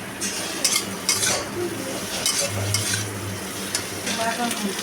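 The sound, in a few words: potatoes being stir-fried with spices in a pan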